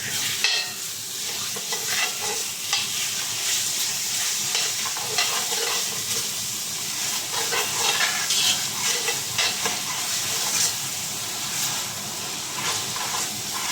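Thick curd is stirred into channa masala in a hot pan, giving a steady close sizzle and hiss with soft scraping of the spoon throughout, and no talking.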